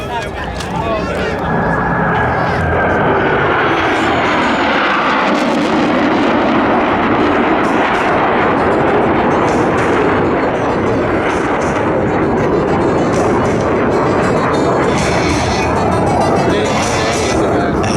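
Blue Angels jets roar loudly and continuously through a brake turn maneuver at an airshow, a broad thundering engine wash that swells and holds near, with crowd noise underneath.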